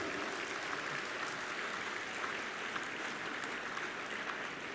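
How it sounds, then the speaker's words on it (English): Applause from an audience at a Rotary district youth service conference after a session, a dense, even wash of clapping that holds steady and sounds fairly distant and soft the whole way through. "Can we have a big round of applause?"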